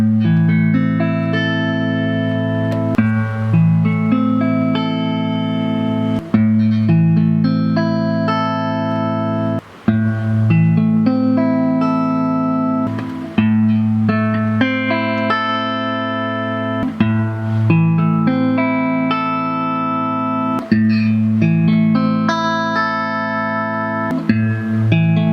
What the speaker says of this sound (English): I'm gonna play one single chord across all 5 positions.